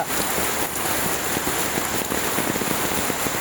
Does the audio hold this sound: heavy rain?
yes